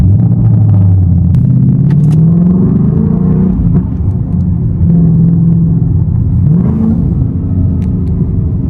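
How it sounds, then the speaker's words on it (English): A BMW F30 sedan engine cold starts and settles into a loud, close, low rumbling idle with slight revving swells, running steadily throughout with no talk. "Cold start."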